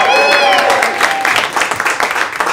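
A comedy club audience at the Comedy Cellar applauds loudly, dense clapping with some whoops up front that thins into scattered individual claps near the end.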